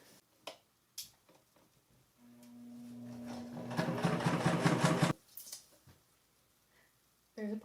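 A sewing machine stitches a pillowcase seam, a short steady whirring run of a few seconds that rises and stops abruptly, framed by quiet handling clicks and taps before and after.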